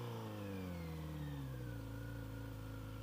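A Kawasaki Z900RS four-cylinder motorcycle holds a fast idle through a tight U-turn, its steady engine drone gradually sinking in pitch, close and constant with no voices.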